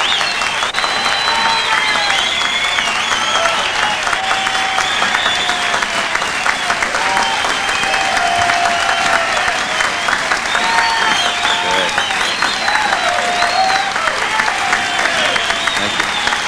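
Sustained audience applause fills a hall, dense and steady clapping mixed with scattered cheers and whoops that carry on without pause.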